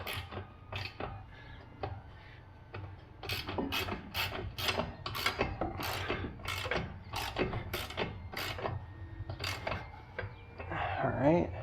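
A ratchet tightens the lower strut assembly bolt during a spring and strut install on an F56: a close run of quick clicks in uneven bursts, with some rubbing and handling noise and a scrape near the end.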